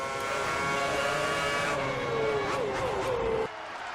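A race car in a video game, racing at the 2010 Turkish Grand Prix, accelerates hard toward the finish line, its engine note rising in a steady, loud whine with a brief squeal before easing off near the end.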